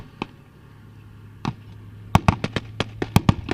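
Gunfire and artillery from a Syrian army battle with ISIS: a couple of isolated sharp cracks early on, then a rapid, loud run of close blasts and reports in quick succession.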